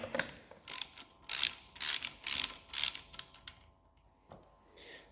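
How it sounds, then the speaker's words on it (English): A ratchet loosening 8mm bolts on a KTM50 dirt bike exhaust silencer, heard as bursts of quick clicking ratchet strokes in a repeating rhythm, close up, then a brief pause before one last burst. "we've got two 8mm bolts need to be removed."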